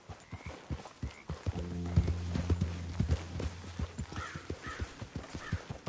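Horse hooves clip-clop in a steady trotting rhythm in Red Dead Redemption 2, close and clear, with a brief whinny and a few faint bird calls mixed in.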